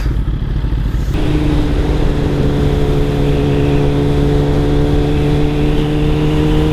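Motorcycle fitted with an SC Project SC1-R exhaust runs at a steady idle, a loud, close, continuous engine drone with a deep low-frequency hum and a slight rise after the first second, with no talking.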